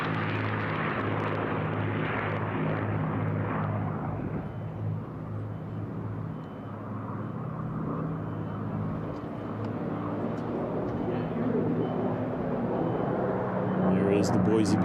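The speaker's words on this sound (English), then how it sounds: "Good look at these aircraft down at the minimum altitude" Unlimited racing aircraft roaring past at minimum altitude of about 50 feet, a loud sustained droning engine rumble that swells and fades, under continuous commentary.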